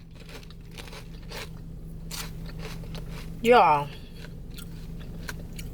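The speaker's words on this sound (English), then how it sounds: "Did y'all hear that crunch?" Someone bites into crisp, well-seasoned fried catfish up close, giving scattered crunchy bites and chewing, with a brief spoken word in the middle.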